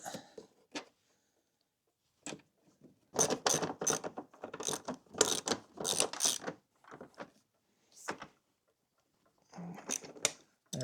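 A ratchet tightens bolts on a narrowing kit for a 2013 RMK 800 Pro snowmobile, giving clusters of sharp rapid clicks in several bursts separated by pauses, close by.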